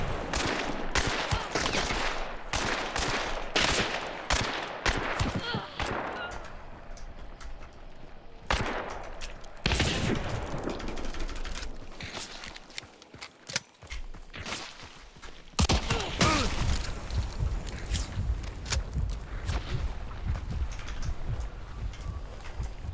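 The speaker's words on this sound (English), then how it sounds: "I'm being shot at." Heavy gunfire in Hunt Showdown on test servers with new ammo: clusters of loud shots in quick bursts, pauses with quieter ambience and footsteps, then renewed firing near and far.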